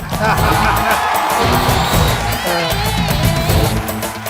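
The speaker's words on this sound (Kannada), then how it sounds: "ಹೊಡಿರ ಚಪ್ಪಾಳೆ" A television studio audience claps and cheers loudly and steadily for a 94-year-old man at a comedy show, with whoops and hubbub, and voices calling out under the applause.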